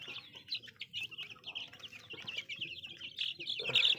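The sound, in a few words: tiger chicks in a poultry farm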